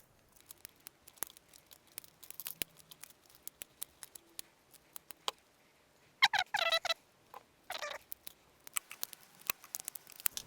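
Scissors snip through orchid stems and roots in a quiet room, giving scattered sharp clicks and a few denser cutting bursts around the middle.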